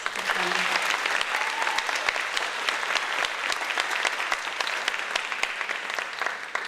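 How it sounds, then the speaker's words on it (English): A large audience at an Indian classical dance debut recital (arangetram) applauds continuously, sharp claps packed tightly together with occasional louder individual claps standing out, sustained throughout. "Give one more round of applause."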